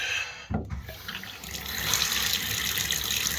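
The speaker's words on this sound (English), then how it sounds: "we're going to run some hot water in here now" Hot water runs from a tap into a slow shower drain, a brief clunk as the tap opens and then a steady close rush of pouring water that grows louder and holds.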